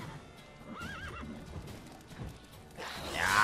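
A horse in The Witcher 3 video game gives a short whinny, with hooves clip-clopping around it and game ambience rising toward the end, moderately loud and without speech.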